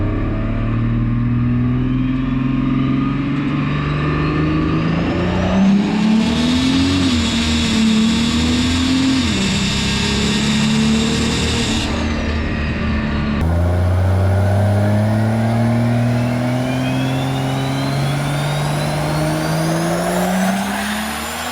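A diesel truck makes a test-and-tune drag racing pass at Beech Bend, Kentucky, its engine droning loud and steady with rising revs and gear changes over a sustained run, no talking.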